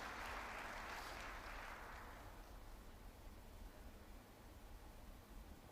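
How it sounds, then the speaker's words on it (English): An audience at a state event in Dar es Salaam applauds as a speaker comes to the podium, a dense wash of clapping that is loudest at first and then fades to a softer, steady patter. "let's give him a warm round of applause"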